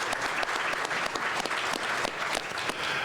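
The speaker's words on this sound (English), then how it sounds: "Let's give them one more round of applause, please." An audience at a civic election candidates forum applauds the candidates, a dense, steady round of clapping that holds at full strength from start to finish.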